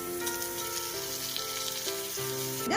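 Chopped tomatoes fry in a pan for chicken biryani, giving a steady close sizzle with no talking.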